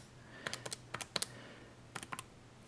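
Quick plastic key clicks as numbers are typed into a graphing calculator, arriving in short bursts of three or four presses separated by brief pauses, close and fairly faint.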